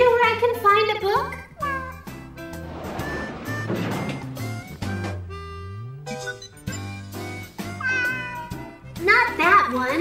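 Cartoonish kitten meows in the Zone of the Enders video game, high warbling cries sounding over bright game music and chimes, with a child-like voice talking between them.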